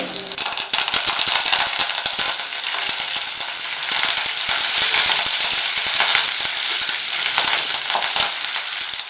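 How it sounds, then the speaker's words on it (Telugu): Dried red chilies and curry leaves crackle and spit in hot oil for a gonguura chutney tempering, a dense, loud sizzle with sharp popping ticks throughout, stirred now and then with faint rattling. "ఇందులోని 6 రెమ్మల కరివేపాకు వేసుకోండి."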